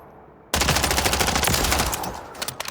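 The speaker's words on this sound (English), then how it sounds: "this is a point-and-shoot kind of gun, and it has bare minimum recoil" An iron-sight gun in Warzone lets loose a sudden, sustained burst of rapid automatic fire, loud and close, running steadily for about two seconds before breaking into a few scattered final shots.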